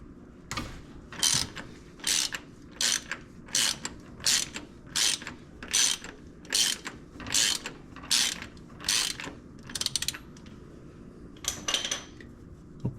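A ratchet clicks in about a dozen short, evenly spaced bursts as it turns a 1/2-inch drive or 27mm socket on the oil filter housing of a 2016 Toyota Tundra, close and clear with no talk.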